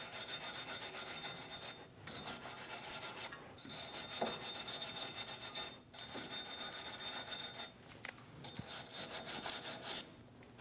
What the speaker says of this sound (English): Using a wire brush, we're going to clean our hub.